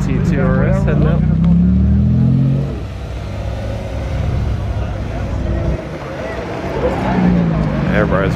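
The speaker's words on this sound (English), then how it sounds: "GT2 RS heading out." A Porsche GT2 RS sports car leaving a cars-and-coffee meet, an engine revving loudly up close before settling to a lower rumble and rising again as it pulls away, with people talking nearby.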